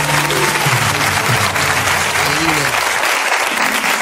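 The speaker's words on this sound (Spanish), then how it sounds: "Yo, un aplauso, por favor." Studio audience applauds after praise for a living-paintings tableau, steady dense clapping over loud background music with tonal lines, voices mixed in throughout.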